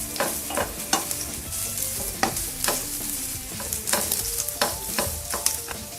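Chopped onions fry in a pan for restaurant-style shingara filling, a steady sizzle broken by repeated scraping stirs of the spoon, close and fairly loud with no talking.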